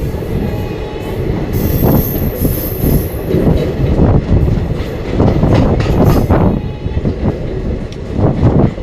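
The Vindhyachal Express 11274 rolls through a station at close range, with loud, rhythmic clattering of wheels over rail joints, a heavy rumble and sharp metallic squeals of the wheels throughout.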